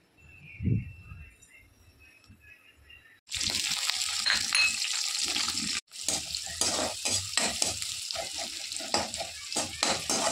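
Chopped onion, garlic and green chillies dropped into hot oil in a pan, a quiet clink before a sudden loud burst of sizzling that continues steadily with stirring, close by.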